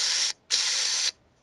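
A voice imitates a spray paint can with two loud, breathy hisses: a short burst, a brief gap, then a longer spray that cuts off cleanly.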